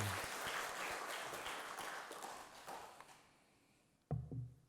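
A church congregation applauds during a Sunday morning service, a dense, steady patter of many hands that fades out, followed by a short burst of louder sound near the end.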